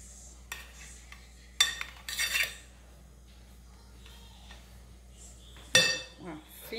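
A spoon scrapes and clinks against a dish, spreading a thin layer of mashed potato for a salmon escondidinho. A few sharp metallic knocks stand out over a quiet kitchen background with a faint voice.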